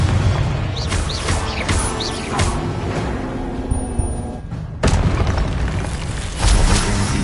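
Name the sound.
explosion from Confringo spell in Hogwarts Legacy video game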